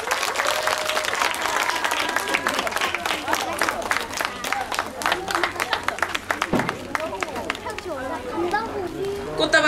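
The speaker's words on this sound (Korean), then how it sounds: "박수!" Audience applauding at the end of a children's youth musical performance of Pippi Longstocking: dense, steady clapping fills the room throughout, with children's voices and crowd chatter mixed in and some excited shouts near the end.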